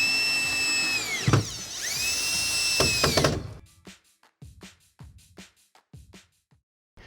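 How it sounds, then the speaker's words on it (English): A power drill whines loudly in two long runs, driving screws around the opening of a Delta EverEdge 60x32 shower base, its pitch dropping as each screw seats, followed by scattered light clicks and knocks. "go ahead and grab your screws and your drill, work your way around the opening"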